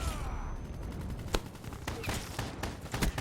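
Rapid gunfire bursts in the Black Ops 3 video game, a dense volley of sharp repeated shots over a steady roar of game noise, with several louder cracks standing out.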